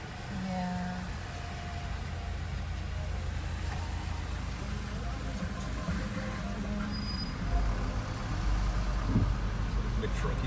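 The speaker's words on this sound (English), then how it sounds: "This big truck coming" A big truck on a rainy-season road in Gambia, a deep engine rumble that swells closer toward the end, with traffic noise and some people talking in the background.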